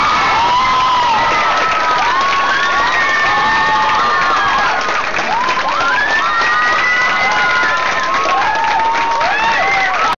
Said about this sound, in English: Let's give a huge round of applause to everyone's favorite author, John Green.